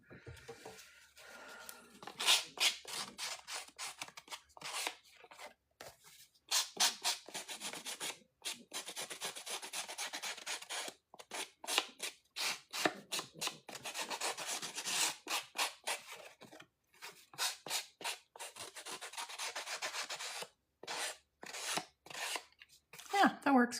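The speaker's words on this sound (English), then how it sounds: "This is a sanding block. You can use a nail file too." A sanding block rubs fuzz off a surface in quick rasping strokes, close and fairly quiet, coming in repeated bursts with short pauses between them.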